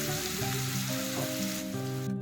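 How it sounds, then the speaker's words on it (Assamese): Finely chopped onions sizzling in oil with panch phoron for an eel fish curry, a continuous close frying hiss with a few stirring sounds and a steady background hum. "পাঁচফোৰণখিনি ফুটি অহাৰ লগে লগে 2টা মিহিকৈ কাটি লোৱা পিঁয়াজ দি ল'লোঁ।"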